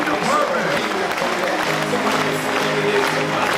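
A crowd aboard the cruise ship Millennium cheers and applauds the ship's crew, a steady broad wash of clapping and voices that holds at an even level throughout, with talk mixed into the din.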